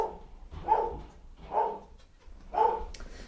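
Three spaced, muffled barks from an indoor dog, moderately loud, each followed by a short pause, with no talking.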